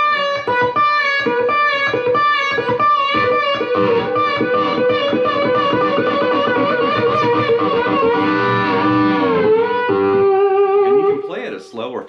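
Slide guitar plays a repeated three-note lick with a sustained, slightly distorted tone, steady and loud throughout, with the phrase cycling several times before a brief pause at the end.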